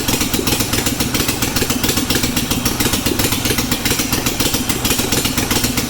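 Engine of a junkyard Bolens QT16 garden tractor running steadily, close and loud, a continuous rattly chugging drone with an even pulsing beat and no talk over it.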